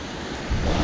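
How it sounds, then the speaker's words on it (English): A waterfall at Gayle gives a brief, steady rush of broadband water noise, close and even, with a slight swell toward the end. "There's your nice waterfalls."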